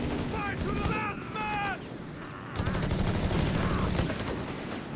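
Panzergrenadier infantry firing on an anti-tank crew in the video game Company of Heroes 3, with sharp rapid gunshot bursts and game sound effects mixed together, loud and close, with brief pauses between volleys.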